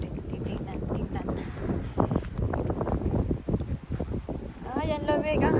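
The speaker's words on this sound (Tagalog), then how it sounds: "Malamig na mahangin pa." Cold wind blows outdoors in rustling, buffeting gusts against the microphone, steady throughout with some handling noise and a brief whistling sound near the end.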